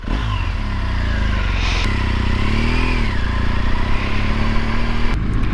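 A 2015 BMW R1200 GS adventure motorcycle engine idles and rumbles steadily up close, with a deep, throaty exhaust note and a slight rise in revs partway through.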